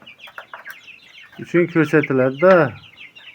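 Chicken sounds, clucking calls in a quick run of several loud, close notes, following softer scattered chirps; a voice speaks briefly. The sound is clearly fowl, though whether it comes from chicks cheeping cannot be confirmed.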